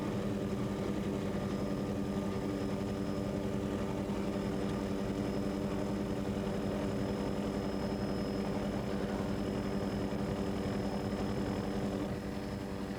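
Twin 550-horsepower KS&W engines power a 30-foot Shadow Cat offshore racing powerboat at the 1983 Point Pleasant Grand Prix, producing a steady, even drone that holds unbroken throughout, with no voices.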